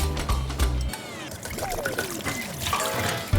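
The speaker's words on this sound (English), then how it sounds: "I'm rinsing this because of the seeds, to get rid of the seeds inside." Water runs and trickles over a vegetable being rinsed to clear out its seeds, in a kitchen. The splashing is steady and moderate, with a few heavier splashes early on and faint clinks underneath.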